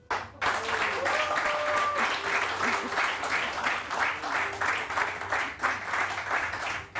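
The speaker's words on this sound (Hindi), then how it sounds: "यार इतनी सी तालियां बस" A studio audience claps in broad, steady applause on a live morning talk show, filling the room continuously for several seconds with no voices standing out.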